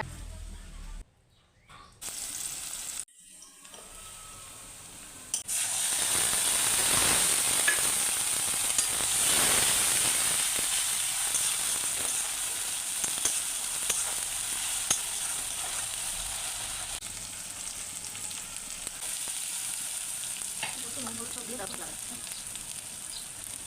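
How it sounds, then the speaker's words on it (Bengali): Fish with spice paste sizzles in a pan while being stirred: after a few sharp clattering starts, a steady loud hissing fry carries on close by, with occasional scraping and bubbling, and no talking over it. "বন্ধুরা আমি মাছ রান্না করছি দেখো তোমরা কেমনভাবে মশলাটা কষা তেমন দেখো"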